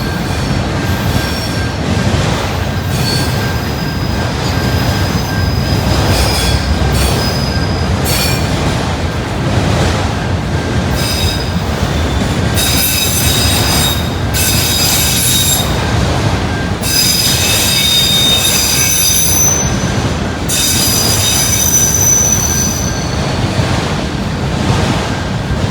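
A very large freight train rolling through a railroad yard north of Atlanta, Georgia, a steady loud roar of wagons with high metallic wheel squeals rising in repeated bursts throughout, no talk.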